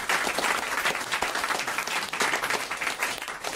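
Studio audience applause on a French comedy panel show, dense sustained clapping from a large crowd, loud and steady throughout without speech over it.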